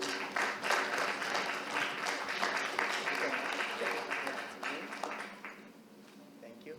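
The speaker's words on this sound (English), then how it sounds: "A round of applause for her." An audience at a business summit panel applauds in a sustained burst of clapping that gradually tapers off, with some voices mixed in.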